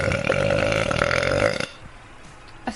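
A young woman lets out a long, loud, drawn-out burp during a gaming session, holding steady for about a second and a half before cutting off into quiet room noise with a faint click near the end.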